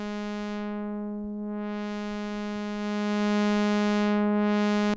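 A harmonically rich DiffMoog synthesizer oscillator holds one steady, loud tone while a filter sweeps its brightness down, back up and down again, ending abruptly.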